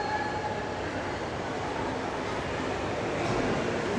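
A model train runs along a long track layout at Chicago's Museum of Science and Industry, giving a steady rolling rumble with faint rail clatter amid hall ambience and distant crowd murmur.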